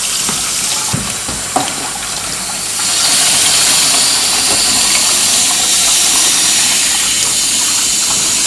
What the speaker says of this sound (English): We'll fill this dish full of water.